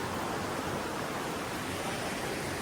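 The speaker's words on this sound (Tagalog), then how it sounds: "Tapos merong sapa, river, bato-bato." Steady broadband rush of a river stream flowing over rocks on a hiking trail, continuous and close, with no voices or other sounds.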